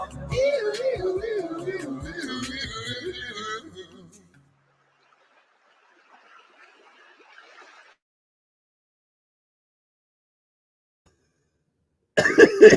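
Several harsh coughs after a bong hit in a rough burst, then a long quiet stretch with faint noise, and another loud cough-like burst at the very end.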